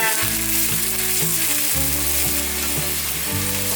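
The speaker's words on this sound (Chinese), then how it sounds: "锅内放入少许油，油热了之后放入西洋芹。 西洋芹炒香" Celery stir-fries in a little hot oil in a wok, giving a constant bright sizzle and crackle throughout, heard over steady background music with shifting tones.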